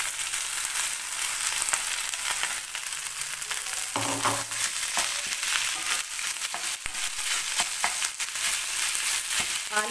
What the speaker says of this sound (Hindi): जब मसाला लाल होने लगे तब इसमें हम अपने आलूओं को डाल देंगे।